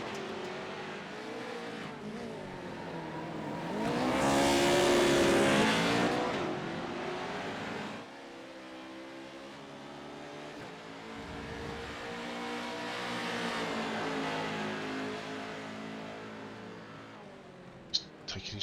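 Pro-2 Lite rallycross trucks racing at Daytona Rallycross in iRacing, engines roaring and revving with a loud surge as trucks pass, then a steady engine drone with faint tire noise.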